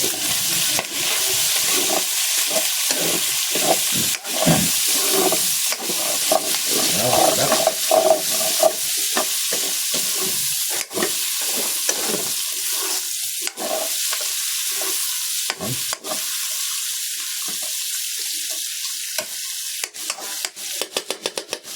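A steady, loud sizzle fills a pan where vegetables and pork are stir-fried, with repeated scraping strokes of a spatula running through it from start to finish.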